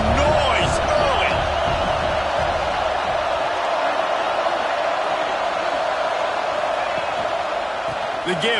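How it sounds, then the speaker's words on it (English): A football stadium crowd produces a dense, steady roar that stays loud and unbroken from start to finish. "This crowd bringing the energy and noise early."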